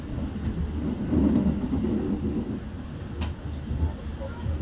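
From inside a moving passenger train, a train on the adjacent track rushes past, a broad rumbling whoosh that swells and fades over a few seconds under steady onboard noise.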